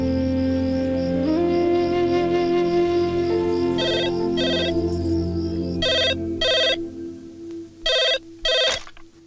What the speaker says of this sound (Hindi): Sheila, I said no calls.